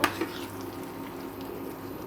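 Banana blossom curry with lentils being sautéed in a pan, a steady low sizzle running throughout, with a couple of brief utensil knocks near the start.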